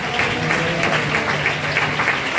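Church congregation clapping hands in praise at Kirubasanam Church in Thanipadi, continuous close, dense applause filling the space with a faint tonal hum beneath.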